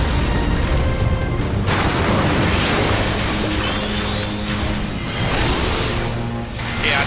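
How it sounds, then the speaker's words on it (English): A dense battle scene in Final Fantasy XIV, fought in Saint Mocianne's Arboretum on Hard, where a growing explosion booms and crashes amid whooshing attacks and layered effects that stay loud throughout. "the explosion combined with the attack from that did not do me well"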